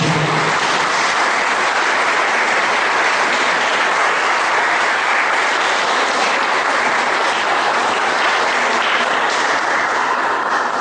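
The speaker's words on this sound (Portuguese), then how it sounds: "Você pode aplaudir o Senhor Jesus nessa noite?" Sustained, loud applause from a church congregation during an evening service, dense and continuous clapping throughout with no break.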